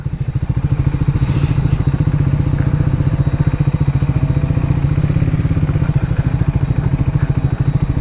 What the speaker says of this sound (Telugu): జస్ట్ యాక్సిలేటర్ ఇస్తలేను, జస్ట్ క్లచ్ పైనే పోతున్నా. మనకు టార్క్ ఎక్కువ కదా, సో సెకండ్ గేర్లో క్రాల్ అయిపోతూనే ఉంటుంది బైక్.